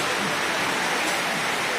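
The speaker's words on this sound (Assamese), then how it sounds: "তো একেবাৰে বৰষুণ আহি গ'ল" Rain falls steadily in an outdoor scene with a scooter, making a dense, even hiss of drops with no other sounds, brief and moderately loud.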